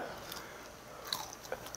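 Sea hare is chewed close to the mic, with faint, soft crunching bites and mouth sounds under quiet room noise.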